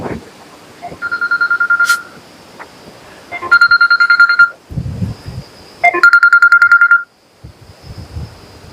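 A phone ringtone plays in repeated electronic bursts of rapid beeping tones, loud and close, with short gaps of quieter background noise between rings.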